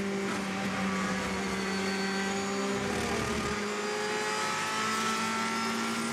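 Race cars at the 2014 24 Hours of Le Mans, a steady engine drone with a rising, sweeping whine as a car closes in and passes at a distance, continuous and moderately loud.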